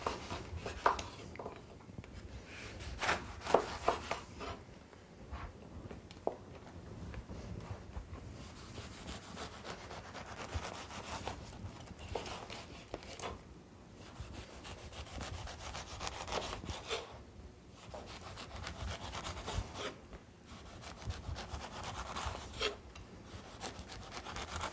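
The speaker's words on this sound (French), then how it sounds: "les quartiers d'orange sont un petit peu plus difficiles à découper que les quartiers de pomelos" A knife cuts orange and pomelo segments for a marinated citrus salad, a continuous close, soft rubbing and scraping with irregular slicing strokes on a board and no talk.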